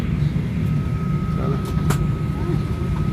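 Steady cabin roar inside a Boeing 737-800 airliner in flight, a dense low rumble that stays constant throughout with faint clicks and rustles over it.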